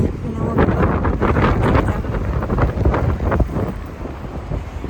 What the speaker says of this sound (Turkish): Zaten çok rüzgar var. Muhtemelen sesim gelmeyecektir.